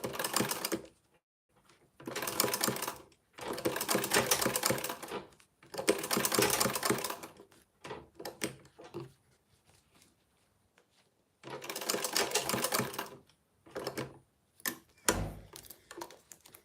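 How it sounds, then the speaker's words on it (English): Sewing machine stitching a zip onto a bag panel in rapid mechanical bursts of about one to two seconds each, separated by pauses with small clicks and handling noises, close and fairly loud. "sewing the zip to panel, just make sure it's aligned, the edges are aligned"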